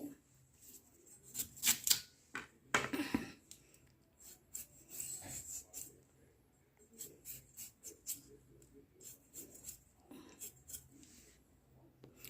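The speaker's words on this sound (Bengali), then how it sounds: "মূলোটাকে আমি একটু গোল গোল করে কেটে নিচ্ছি, ভালো করে সুন্দর করে আমি দা দিয়ে কাটছি" A radish is cut into round slices with a dao blade, producing irregular crisp chopping and scraping strokes, some close and sharp, in uneven clusters with quiet gaps between them.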